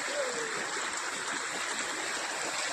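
Water rushes and gurgles continuously in a close stream in the Konkan countryside, a steady bright hiss with no pauses and no talking.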